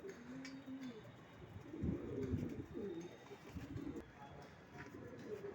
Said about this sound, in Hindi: हुमर कबूतर ये कोई आम कबूतर नहीं है